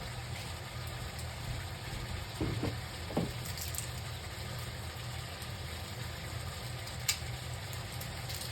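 Diced onion sautés in a pan for raccoon tacos, giving a steady low sizzle with a couple of faint clinks of a utensil, quiet and continuous.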